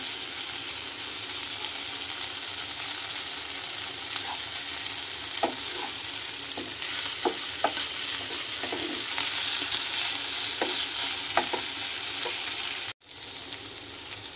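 Hot oil sizzling and frying in a pan while hot water is added for a fish gravy, a steady close hiss with scattered pops and crackles, cut by a brief break near the end.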